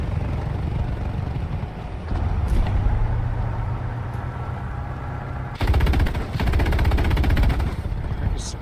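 Machine gun fire in the War Thunder video game: long rapid bursts of loud automatic fire, first one stretch, then a louder, denser burst in the later part, over engine rumble.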